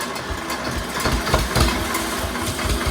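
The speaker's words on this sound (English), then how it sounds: "it should fire right up. Turn the key on, hit the start button." A vintage Lamborghini engine idles with a steady, rough low rumble and slight uneven pulsing, loud and close throughout.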